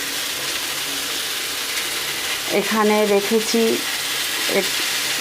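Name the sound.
bitter gourd frying in a pan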